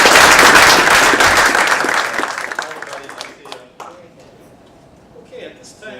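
An audience applauds at a public meeting on a home foreclosure crisis, with dense clapping loud at first that thins out and fades to a few scattered claps over several seconds.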